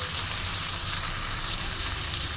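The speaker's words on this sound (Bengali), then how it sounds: "তো দেখো আমি একটু ভালো করে ভেজে নেবো, দু পিঠ উল্টে পাল্টে ভেজে নেবো।" Diced cabbage pieces frying in a pan produce a faint, even hiss of sizzling oil that holds steady throughout without stirring or talk.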